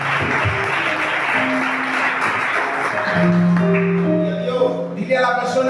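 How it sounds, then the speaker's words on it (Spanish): A church congregation applauds in a steady, dense wash of clapping that fills the room, with sustained keyboard or organ tones entering partway through. "Amén. Dale un aplauso."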